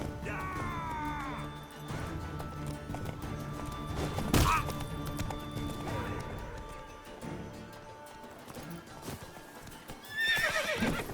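A horse whinnies and its hooves clop amid combat crashes and background music in The Witcher 3: Wild Hunt, with a loud neigh near the start and another near the end.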